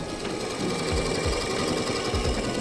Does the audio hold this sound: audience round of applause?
no